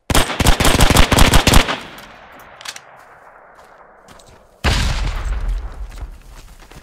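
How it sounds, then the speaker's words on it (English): A .30 cal machine gun in the WWII shooter Hell Let Loose fires a rapid, loud close burst, then goes quiet amid distant battle noise before a second heavy blast or burst of fire erupts. "Get the 30 cal in that window,"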